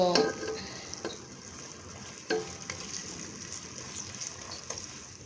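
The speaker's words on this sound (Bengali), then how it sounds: "আদা রসুন পেস্টটাও আমি একটু ভাজা ভাজা করে নেব" Ginger-garlic paste fries with onions in a pan for a spiced beef curry, a soft steady sizzle broken by clinking stirs and scrapes of a spoon, moderately close with no talk.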